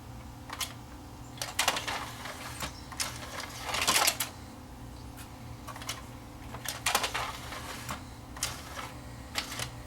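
Lid mechanism of a Philips CD650 single-disc CD player with a sticking, jamming lid: a series of close, faint mechanical clicks and taps, irregularly spaced, with a denser rattling burst midway, over a quiet background.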